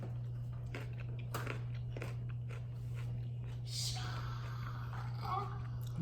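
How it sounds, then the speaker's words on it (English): Crunchy salad dressed with light mayo is chewed close up with faint, irregular bites and crunches over a steady low hum, with occasional quiet breathing. "But I'm making some really good crunchy sounds right now"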